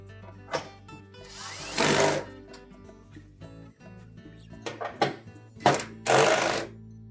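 Screws being driven into the heater assembly housing of a General Electric dryer during repair, heard as two separate bursts of a power driver whirring, about a second each, between quieter clicks and handling noises, close and fairly loud, with no talking.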